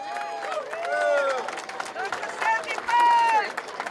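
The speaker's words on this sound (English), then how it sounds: "Local 10, give them a round of applause." Crowd at an outdoor May Day rally of ILWU dockworkers in Oakland claps and cheers, a steady wash of applause with whistles and shouts rising and falling over a few seconds.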